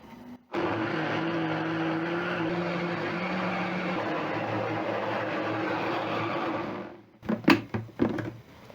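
A blender grinds cooked potatoes for Kenyan mukimo, starting abruptly and running as a loud, steady motor whir for several seconds before stopping, followed by a few clunks.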